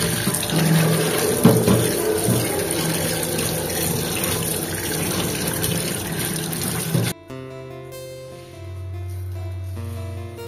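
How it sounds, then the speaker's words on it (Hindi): Tap water runs steadily into a sink while fish is washed, a close, loud continuous splashing that stops abruptly partway through, followed by quieter kitchen sounds. "माछ तो मुझे धोई दिए"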